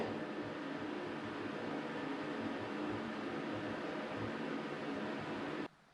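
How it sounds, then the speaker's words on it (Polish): A bathroom ventilation fan running steadily, a loud, even broadband whoosh with a low hum, close by and unbroken for several seconds before cutting off abruptly near the end, alone without voices. "wentylator łazienkowy."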